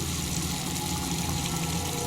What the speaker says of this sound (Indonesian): Keran air di wastafel menyala.